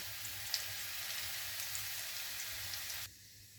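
Chopped ginger and garlic sizzle in hot oil in a kadai (wok), a steady soft hiss and crackle with faint pops that runs evenly, then drops away abruptly near the end.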